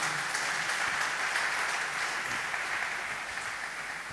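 An audience at a church health round-table conference claps steadily and loudly for the full four seconds, a dense continuous applause with no voices rising above it.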